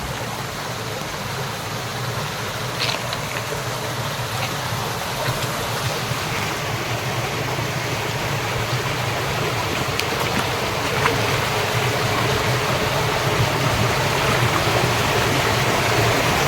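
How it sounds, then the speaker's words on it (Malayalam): Water rushes continuously out of a cave at Cheerattamala, a steady full roar of flowing water that stays even throughout, with no talking. "ഒരു ഗുഹയുടെ ഉള്ളിൽ നിന്നും വെള്ളം വരുന്നത്"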